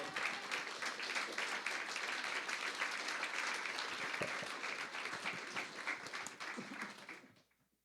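A church congregation at a Spanish-language Christian sermon breaks into sustained applause for God, a dense steady roar of many hands that holds for several seconds and then fades out at the end.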